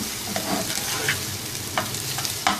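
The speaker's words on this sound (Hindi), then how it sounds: "अनियंस लाइट गोल्डन फ्राई हो गए।" Onions fry in a pan until light golden, a dense, even sizzle close by with a few faint scraping stirs scattered through it.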